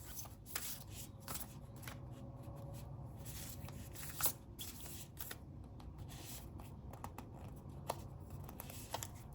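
Thick Spirit Animal Oracle cards handled and shuffled, giving a continuous rustle of card stock with scattered crisp slaps, close and fairly quiet.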